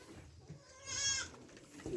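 Black goats, a recently bought herd of ordinary Kazakh goats, give one loud bleat that swells and fades in the middle over low background noise.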